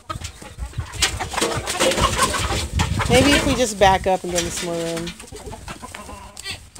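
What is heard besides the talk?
free-range chickens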